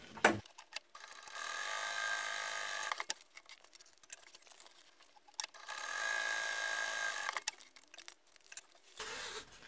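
A sewing machine stitches a fabric lockpick pouch in two long runs separated by short pauses, a steady fast mechanical whir heard close-up and quiet with no talking.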